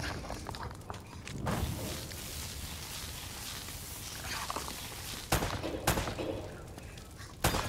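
Gunfire in an Uncharted game, scattered shots and impacts over a rough background, with a couple of sharp loud bangs near the end.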